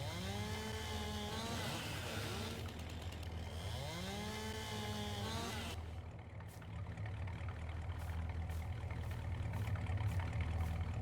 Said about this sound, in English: the sound of chainsaws in the morning